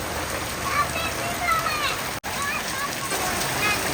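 Rain in Kerala falls steadily and loudly on surfaces nearby, a dense continuous patter with faint voices and a brief dropout partway through.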